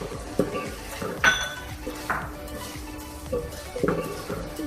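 Vegetables being stirred in a cooking pot with a metal spoon, irregular clinks and scrapes against the pot rising over a quiet sizzle, close and moderately loud.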